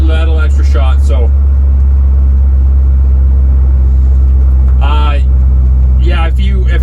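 A car engine fitted with a Motorcraft 4300D carburetor idles as a steady, loud low rumble throughout, with someone talking over it in short bursts.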